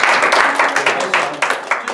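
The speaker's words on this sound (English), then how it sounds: "Give her a round of applause." A small audience claps in a training session, with sharp individual hand claps and uneven rhythm close by and a voice briefly heard over them.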